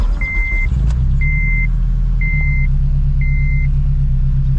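An H22-swapped Honda EG with a fully built motor cruises on the interstate: a steady, heavy low engine drone runs throughout, with four evenly spaced high beeps sounding about once per second.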